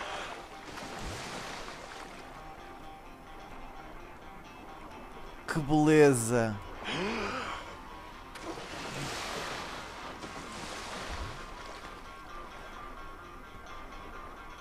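Ocean waves wash steadily around a swimming character in GTA V, a continuous soft surf and water hiss throughout, with a brief louder splash in the middle and someone speaking over it.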